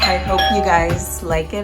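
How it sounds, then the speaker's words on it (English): A doorbell chimes in a home kitchen, bright ringing tones overlapping with someone talking, close and loud. "Oh, that's the doorbell."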